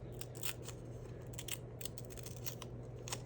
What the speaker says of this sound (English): I'm gonna just start it with a little snip